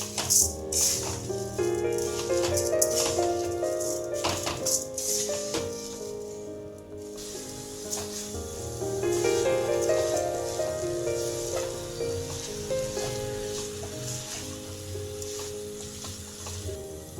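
Sugar being stirred into grated beetroot in a pan for beet laddu, a steady sizzling scrape of mixing with soft rattles, close and continuous, with faint background music.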